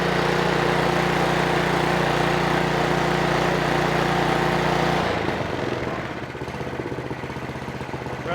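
Toro Power Max 726 OE snow blower engine running loud and steady, close by, holding a high droning pitch for several seconds before the revs drop to a lower, rougher idle.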